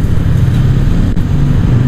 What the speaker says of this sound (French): On est sur un bicylindre de 500 cm3.